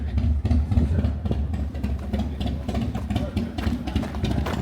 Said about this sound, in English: Can you believe his bike starts?